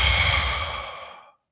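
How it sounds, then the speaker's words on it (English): A single long, deep exhaled breath like a sigh, close and clear, fading smoothly to silence after about a second and a quarter. "deep, big breath."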